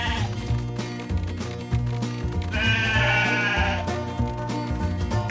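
Cartoon sheep bleat repeatedly in a Paw Patrol video game, the calls layered over steady, bouncy game music that runs throughout.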